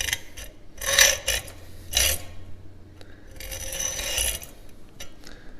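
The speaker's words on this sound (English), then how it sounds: "Set my hacksaw. Get it" A hacksaw cuts into a metal bottle opener, giving a few rasping strokes, some short and then a longer drawn stroke, close and fairly loud with no talking.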